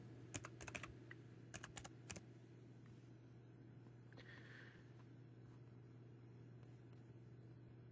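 Keys on a computer keyboard tapped in a quick cluster of clicks at the start, then quiet room hum with a faint steady tone.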